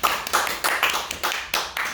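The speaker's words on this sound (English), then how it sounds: "I want to give a big round of applause to Jason Berk." An audience at a live birthday show claps in a quick, fairly even rhythm, with about eight distinct clap bursts close by and no talking over them.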